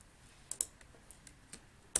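A few sharp, separate key clicks sound on a computer keyboard while a short command is typed. The taps come close and crisp with uneven gaps, and the quiet room around them holds no talking.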